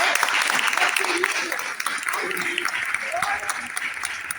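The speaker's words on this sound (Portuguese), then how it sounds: "Rodrigo Borato, lá, uma salva de palmas também." Applause from an audience at an in-person gathering of PRAEMA course teachers in Santana do Livramento: dense, steady clapping across the whole stretch, with a voice talking over it.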